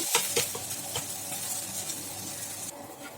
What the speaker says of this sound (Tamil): இப்போ வந்து இந்த பொடி தோசை தான் போட்டிருக்கேன்